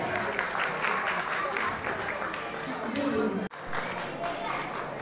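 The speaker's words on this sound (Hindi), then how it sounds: "जोरदार तालियां तो हो जाए" An audience at a cultural and poetry recitation gathering in Mehrauli, marking Swami Vivekananda's birth anniversary, bursts into sustained, loud applause, a dense crowd roar of clapping with a brief dropout midway before it resumes just as strongly.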